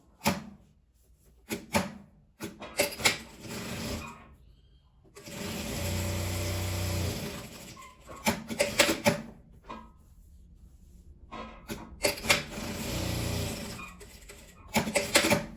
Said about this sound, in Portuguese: agora eu vou pegar ele aqui em volta e passar uma costura